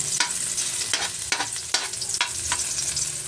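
Chicken pieces seared and stirred in a hot pan for sinigang, a steady sizzle broken by a handful of sharp scraping stirs, close and with no talk.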